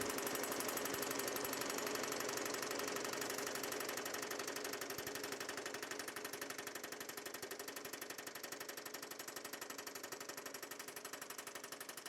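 A power hammer pounds a metal panel in rapid, continuous blows, stretching the sheet inboard to tighten a loose edge, loud and steady throughout and easing slightly in the second half.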